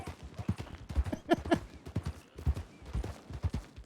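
Horse hooves clip-clopping in Red Dead Redemption 2 during roleplay, a steady rhythmic series of hoofbeats at moderate volume with some voices faintly present.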